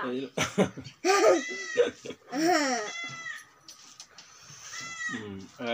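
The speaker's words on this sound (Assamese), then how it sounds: "আমাৰ ছাগলী পোৱালি এটা আছে, এতিয়া আমাৰ ভনীক নাই দেখা যে চিঞৰি আছে" A young goat kid bleats repeatedly at close range, its wavering cries calling out in short bursts, mixed with human voices.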